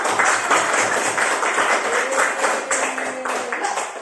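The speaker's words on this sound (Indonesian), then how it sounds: "Kasih tepuk tangan dong" Classroom students clap together in a steady, fairly loud burst of rhythmic applause, with some voices faintly underneath.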